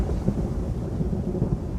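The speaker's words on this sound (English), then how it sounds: "Ariel goes to the ship and makes a tempest, with wind and rain" Storm wind and rain produce a dense, steady low rumble with rushing texture throughout, continuous and moderately loud, with no voices.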